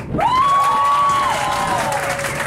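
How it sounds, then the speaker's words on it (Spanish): An audience applauds aboard a night party cruise on a yacht, a steady wash of clapping and crowd noise with a long whistle rising above it. "El aplauso para la pareja número uno."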